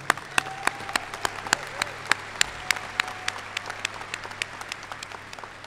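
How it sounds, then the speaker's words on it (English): Scattered, sparse applause at a graduation ceremony, individual claps clearly separated and coming in an uneven rhythm from a modest audience in a large, reverberant hall, fairly faint and thinning toward the end. "So give them a round of applause."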